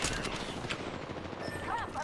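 Gunfire in Apex, a rapid string of shots under and between teammates' voices, moderately loud and close.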